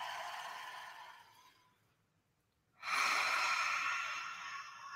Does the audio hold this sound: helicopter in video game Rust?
no